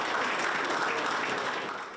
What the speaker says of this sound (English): During a long round of applause